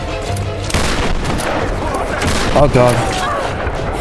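Gunfire in the action game Tomb Raider: Definitive Edition, dense sharp shots crackling over a noisy game mix, with a louder burst near the end and a man exclaiming briefly.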